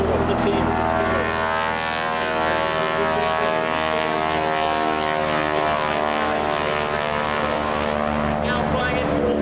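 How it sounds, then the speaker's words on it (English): Aerobatic display planes at the 2014 Clacton Air Show give a loud, continuous propeller-engine drone that holds steady throughout without fading away. "each aircraft performing the same aerobatic maneuver in front of their own"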